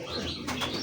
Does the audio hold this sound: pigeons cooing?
yes